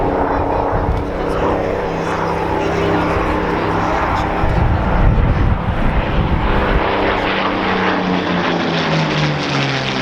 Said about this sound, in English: this particular Spitfire is one of the most famous